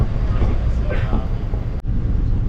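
A metro train in Taiwan runs along the line with a steady, close rumble and rolling rail noise for the whole stretch, broken by one brief dip, and a faint murmur of voices may sit under it.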